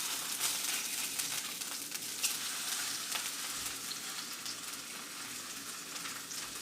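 Tuna sears in a pan over low-medium heat, giving a steady, close crackling sizzle with small pops throughout.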